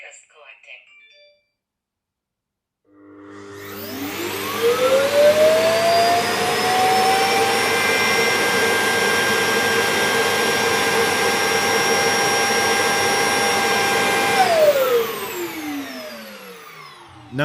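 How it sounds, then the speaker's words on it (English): Neabot N1 Plus robot vacuum docking station emptying the robot's dust bin, a loud, steady whine and roar that ramps up in pitch, holds for about ten seconds, then winds down, with no talking. "the vacuum within that station will then suck out all of the dust and the debris that it's managed to collect"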